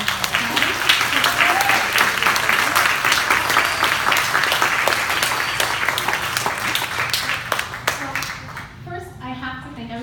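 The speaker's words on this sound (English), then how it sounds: "she needs a huge round of applause as a brand new area manager" Crowd applause for a new area manager, dense and sustained, with many hands clapping close and loud, thinning and fading out in the last second or so as a few voices come through.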